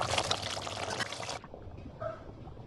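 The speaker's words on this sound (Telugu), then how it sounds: "అందులో వాటర్ వేసుకుంటే చాలా గ్రేవీ బాగా వస్తుంది" Water is poured into a pan of Hyderabadi-style chicken curry, with a loud, rushing splash for about a second and a half that then drops to a quieter bubbling.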